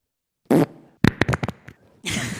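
A recorded fart plays from a soundboard as a string of loud wet bursts, first one longer blast, then several rapid sputtering pops and a final rasping release, close and alone without talk.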